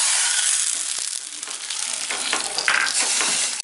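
Mustard seeds and dried red chilies sizzle loudly in hot oil for a Tamil buttermilk gravy made with ash gourd, a dense, continuous crackle close by, with no voices.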